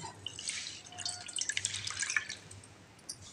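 Soaked tamarind water for kara kuzhambu being strained, with a steady run of small drips and trickles falling into a vessel, close and fairly quiet, with no voices.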